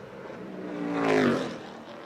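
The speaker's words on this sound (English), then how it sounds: "Sounds like a stock car." A race car engine at Pikes Peak roars past, rising to a loud peak and fading away as it goes by.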